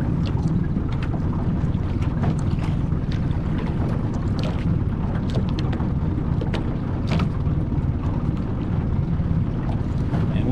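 A 1963 Evinrude Big Twin 40 hp outboard pushes a boat across a lake at cruising speed, giving a steady, loud motor drone mixed with water rush and wind buffeting across the whole stretch, with no talking.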